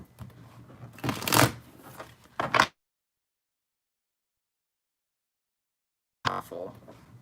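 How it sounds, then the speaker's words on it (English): A deck of tarot cards is shuffled in a few quick riffling bursts, fairly close and moderately loud, followed by a long silence and then a brief renewed burst of card noise. "One more shuffle."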